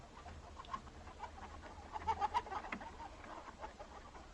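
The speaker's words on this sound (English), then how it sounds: "the vast majority of hens are confined in dark sheds, in cages just like these" Faint clucking of caged hens in a shed, a few short bird calls over a low, steady background hum, quiet and somewhat distant.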